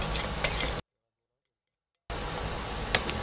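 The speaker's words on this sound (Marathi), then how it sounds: "त्याला मस्तपैकी हलवून घ्यायचं आहे। हे मसाले जर छान भाजून घ्यायचे।" Red chilli powder, coriander powder, Maggi masala and turmeric sizzle in a pan while being stirred, a soft crackling hiss with scraping touches; the sound drops out completely for over a second midway.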